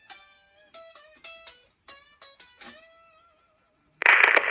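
An unamplified electric guitar heard in the room gives thin, quiet plucked notes in a short, loose blues phrase, followed by a sudden loud burst of broadband noise at the end.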